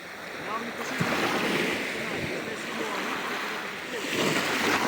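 Steady rushing surf and wind noise fill the clip, with sea waves washing continuously nearby on the Italian coast; a voice is faintly present under the water sound.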